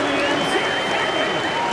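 In an NBA 2K26 video game arena, a San Antonio home crowd at the AT&T Center cheers and applauds in a dense, continuous roar of clapping and crowd noise that fills the whole stretch.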